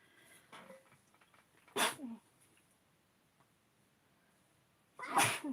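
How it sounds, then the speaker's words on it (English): Two sharp sneezes about three seconds apart, the second louder and longer, with faint rustling and quiet room noise between them. "excuse me, I'm going to sneeze"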